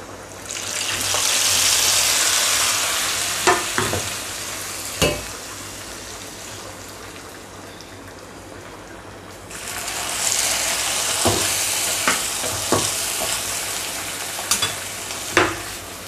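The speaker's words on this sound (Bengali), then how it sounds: "ডালটাতে বাগার দিয়ে দেব।" Garlic and onion fried in a frying pan are poured as a tempering into cooked masoor lentils, setting off a loud hissing sizzle that fades, then surges again, broken by occasional clinks and scrapes of a spoon against the pan.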